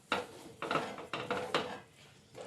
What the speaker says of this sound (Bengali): ব্যাস মিশিয়ে নিচ্ছি।